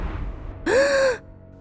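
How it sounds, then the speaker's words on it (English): A woman wakes with one sharp, voiced gasp, close and breathy, lasting about half a second before quiet returns. "She woke up with a gasp"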